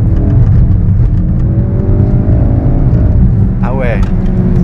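Ford Focus RS Performance car in drift mode, its engine droning loud and steady with rising and falling revs throughout, while a voice exclaims briefly near the end.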